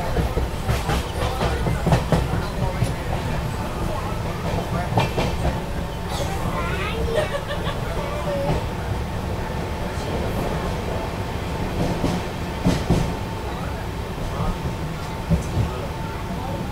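The Kollam to Tirupati express rolls along with a continuous rumble and rhythmic clickety-clack of wheels over rail joints, heard from inside the moving train, with voices talking over it.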